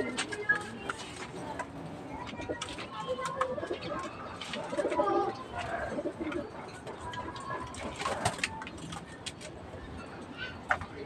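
Pet pigeons kept in a home loft cooing softly in repeated low throaty phrases, fairly quiet and close, with scattered clicks and light movement around them.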